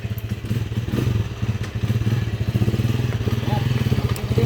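A motorcycle engine runs close by with a steady, rapid, pulsing idle and a little mechanical clatter, while voices talk faintly nearby.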